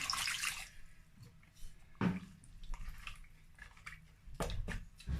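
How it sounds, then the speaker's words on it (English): Water splashes and gurgles into a pot of beef in tomato sauce in short, uneven bursts, close by and fairly quiet, with soft knocks in between. "I'm going to add water"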